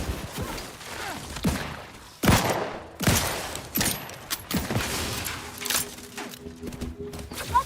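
Gunfire in the video game The Outer Worlds 2 comes as a run of sharp, loud, close shots in irregular bursts, with clanks and thuds between them and brief electronic tones near the end.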